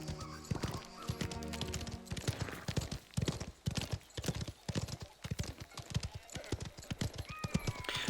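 Horse hooves clip-clop in a brisk, steady rhythm in a Mafia video game, close and distinct, with a brief whinny near the end.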